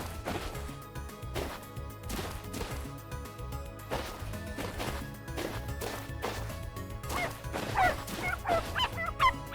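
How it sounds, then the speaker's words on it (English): A dog barks repeatedly in short, sharp bursts, with a few yips and whimpers. The barks grow more frantic toward the end over a steady tonal background. "bark, bark all you want."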